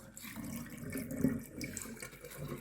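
Rinse water poured away from sprouting legume seeds, a short splashing trickle draining off, close and fairly soft, with no talk over it.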